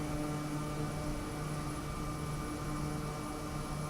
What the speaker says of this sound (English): I can hear all the other aircraft flying around as well.